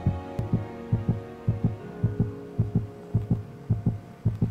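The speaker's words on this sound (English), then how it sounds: "isn't that the warden's heartbeat sound?" Heartbeat of the warden in Minecraft, heard as a steady series of low, double-thumping throbs at about one beat per second over a faint hum, with no talking.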